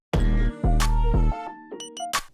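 A few sharp, processed rimshot hits with long tonal ringing tails and synthetic noise, followed by short glitchy electronic blips, loud and close, in a hyperpop beat.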